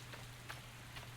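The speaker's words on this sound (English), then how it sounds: "It's raining." Faint falling rain in the Legends of Aria game world, a brief soft patter with a few distinct drop taps over a low steady hum.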